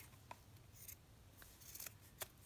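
Scissors snip through favourite lace fabric, cutting it into ragged strips for a fabric folio, with several quiet, close, crisp cuts spread irregularly over a couple of seconds against a faint background.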